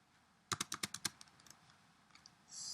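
Keys on a computer keyboard click in a quick burst of about six sharp taps, followed by a few softer scattered presses, heard close in a quiet room before a faint hiss rises at the end.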